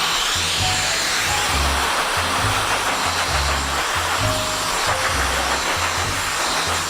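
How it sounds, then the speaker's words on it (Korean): A hair dryer blows loudly and continuously on hair rollers, a steady rushing roar with a low fluttering hum underneath. "구루프가 약간 뜨끈해지게 이렇게 드라이기로 데워준 다음에"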